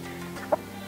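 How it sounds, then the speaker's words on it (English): A single chicken gives one short, close cluck over a quiet garden background while delphiniums are being tended. "Hey there, cluck cluck."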